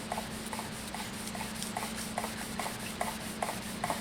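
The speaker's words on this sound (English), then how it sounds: "make sure it's sanded right" Continuous hand sanding of a wooden stave drum shell, a steady rasping rub with rhythmic back-and-forth strokes, close and even, with a faint hum underneath.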